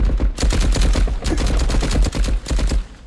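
Loud, sustained bursts of automatic gunfire in the shooter game Marauders, rapid shots running nearly continuously with brief gaps between volleys.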